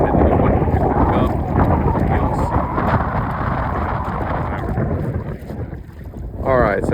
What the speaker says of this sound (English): Going into a heavy wind.